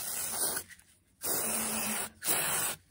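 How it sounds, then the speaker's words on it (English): Silicone spray is blasted onto the rubber parts of a BMW F650 Funduro carburetor in three close, loud bursts of hissing, separated by short pauses. "This is just silicone spray."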